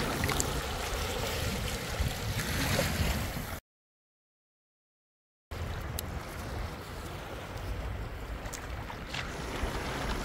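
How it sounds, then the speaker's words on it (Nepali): Water of the Narayani river flowing, a steady broadband rushing wash with wind, cut by a brief silent gap before resuming at the same level. "नारायणीको त्यो कलकल बगेको पानी सुन्दा पनि कस्तो आनन्द लाग्ने"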